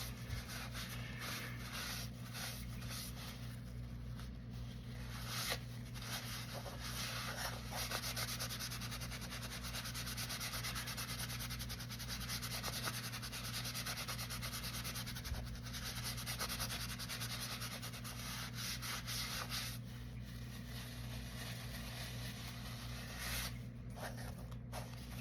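Excess color is rubbed off the back of an epoxy coaster with a steady, dry scrubbing that runs unbroken at an even, moderate level throughout.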